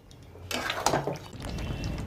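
Water left from washing cashews poured from a bowl into a cooking pan, a short splashing pour starting abruptly, followed by a low bubbling sizzle, close and moderately quiet.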